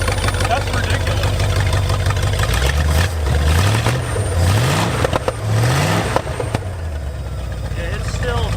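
An abandoned muscle car engine, started for the first time in 35 years and still cold, idles with a deep, uneven rumble that rises and dips in pitch a few times, loud and close.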